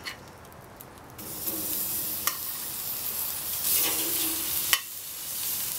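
BBQ ribs sizzle over a very hot grill fire, a steady hiss that swells and fades, with a few sharp clicks and pops, close by and with no talk.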